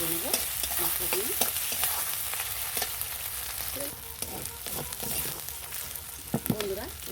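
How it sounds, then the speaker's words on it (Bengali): Onion, ginger and garlic paste frying with spices in oil, a steady close sizzle broken by repeated scraping and stirring strokes of a spoon against the pan throughout, with no talking. "দেখুন, এটাও একটু হালকা করে আমি ভেজে নেব মশলা দিয়ে।"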